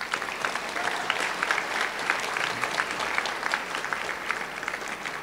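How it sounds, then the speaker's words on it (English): An audience at a 2023 middle school promotion ceremony claps for the students' parents, a steady and dense round of applause that fills the whole stretch at an even level. "So students, I would appreciate it if you gave your parents a nice big round of applause."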